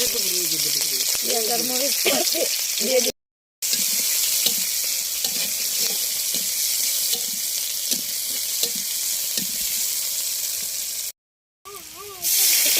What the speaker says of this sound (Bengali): আর চারটা শুকনো মরিচ ভেজে নিচ্ছি